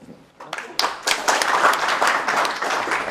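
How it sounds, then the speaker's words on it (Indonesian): Studio audience applause after a televised Indonesian interview program, building from a few scattered claps into a steady, dense round of clapping that continues to the end. "Boleh tepuk tangan?"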